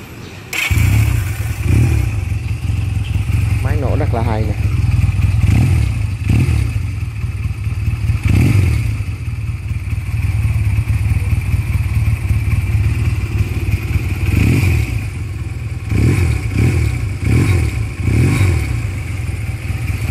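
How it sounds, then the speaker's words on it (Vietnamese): A Rebel USA Deluxe 170cc motorcycle engine idles steadily and is revved repeatedly in short bursts, loud and close, with no talking. "Ga đơn tay nổ rất là nhuyễn nha, rất là đều."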